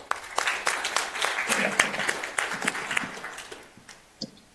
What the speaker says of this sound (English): Let's give him a hundred applause.